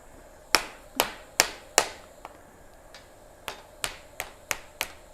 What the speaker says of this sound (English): I'm using a rawhide mallet because I know someone's going to ask.